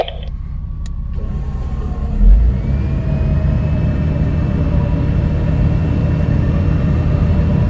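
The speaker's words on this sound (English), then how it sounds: "Okay, we got winch. All right, drag him sideways." A winch drags a totaled Jeep Comanche sideways during a recovery, a steady low mechanical rumble and drone that runs unbroken throughout, with a brief heavier thump partway in and no talking.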